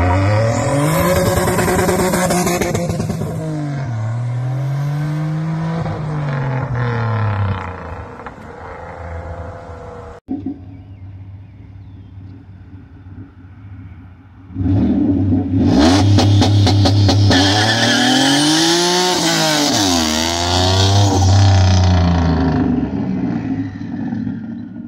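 A 3.8 Turbo Genesis coupe on 305/30 19 Nitto 555 G2 tires revs hard and launches. The engine climbs through loud, rising gear pulls, eases off, then roars up again near the listener with no talking.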